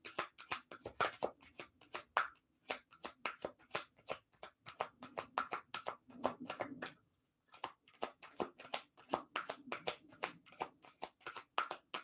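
Tarot cards shuffled for a reading in a dense run of quick, crisp riffles and slaps, close and steady, with a short pause midway before the shuffling resumes.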